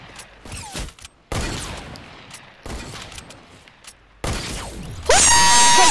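Fortnite gunfire, with sharp bursts of shots in several separate volleys and a loud mechanical rattle near the end, played alone and without talk.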